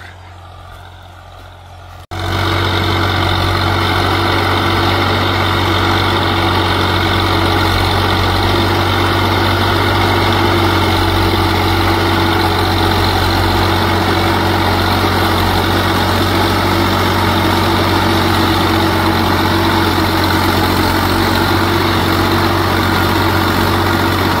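A heavy diesel tractor engine with a rotavator idles steadily and loudly after a brief quiet start, a constant low throbbing drone with no talking.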